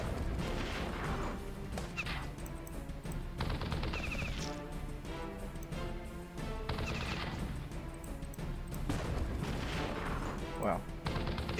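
Tanks fire at a target in the video game Battle Nations, with repeated booming shots and crashing impacts over game music, and someone talking over the action.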